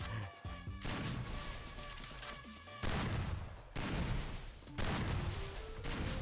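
Rapid gunfire and impact crashes from a competitive esports match in the KECS 4 qualifier final, dense and loud in several bursts with rising electronic tones over the top.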